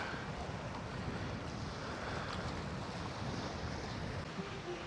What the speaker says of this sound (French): Le vent est terrible.